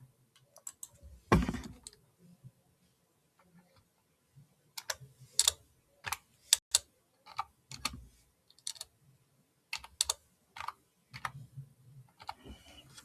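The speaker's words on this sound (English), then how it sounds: "when you give it a name, you hit enter on your keyboard" Someone types a folder name on a computer keyboard with close, crisp key clicks: a thump early on, then bursts of irregular keystrokes separated by short pauses.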